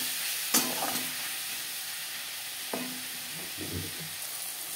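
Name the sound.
onions and tomatoes frying and being stirred in a pan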